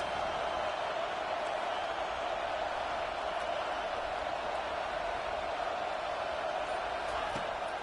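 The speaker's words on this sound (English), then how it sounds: "Listen to this crowd just shaking the girders of this place, trying to help their defense." A college football video game stadium crowd roars in a dense, steady wall of cheering noise that barely changes in level throughout.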